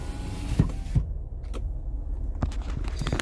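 Electric power windows in a 2018 Jeep Wrangler Unlimited Sahara soft-top give a short, faint motor whir inside the cabin, with a few soft clicks and knocks around it.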